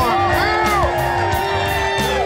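A crowd at a fishing tournament weigh-in on Santee and Cooper Lakes in Eutawville, South Carolina cheers and whoops for a champion, loud shouts and yells over an amplified announcer's voice.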